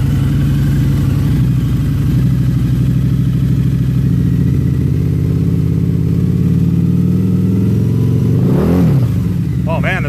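A motorcycle engine runs close and loud with a steady throbbing idle, then a quick throttle rev rises and falls near the end.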